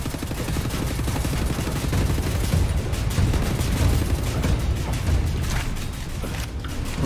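Heavy, rapid automatic gunfire in the shooter Wolfenstein: The New Order, a dense, continuous roaring barrage with booming impacts that fills the whole stretch, no speech.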